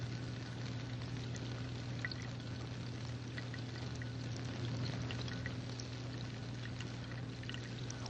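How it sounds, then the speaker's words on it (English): Water fizzes softly and continuously as gas bubbles form at the electrodes during electrolysis, a faint steady hiss over a low electrical hum, with no talking. "the bubbling is the result not of a physical change in the water, but of a chemical change. Gases are forming at each electrode."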